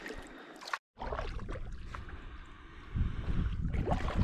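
Coots, or mud hens, splash and patter across a quiet winter lake, a close, rushing flurry of watery slaps that grows louder toward the end after a brief gap.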